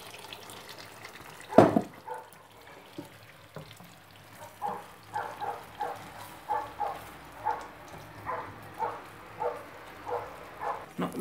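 Water is added to a kitchen mixture in a home cooking setting: a brief splash is followed by a steady run of soft, rhythmic wet sloshing pulses, close and fairly quiet, with no talking.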